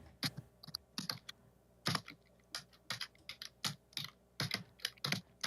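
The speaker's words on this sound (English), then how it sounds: "Your keyboard's a little loud. Yeah, Mr. Mechanical Gamer Keyboard." Clicky mechanical keyboard typing in quick uneven bursts of keystrokes, close by and fairly quiet.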